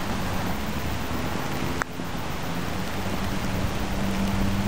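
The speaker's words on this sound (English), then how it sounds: "Yeah, it's starting to rain now." Steady rain falls on a golf course, a dense even hiss of drops throughout with one brief sharp tap partway through, no voices.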